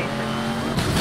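A car drifts with a sustained tire squeal in Need for Speed Most Wanted, a loud engine roar and screeching tires filling the short burst, with a harsher scrape near the end.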